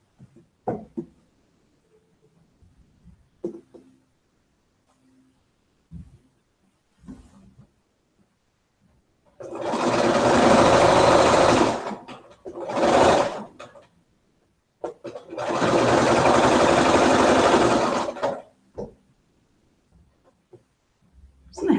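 Sewing machine stitching quilt seams, three short bursts of close mechanical whirring separated by pauses, with faint handling clicks around them and no talk.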